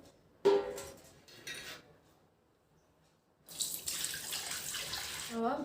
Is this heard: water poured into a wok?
yes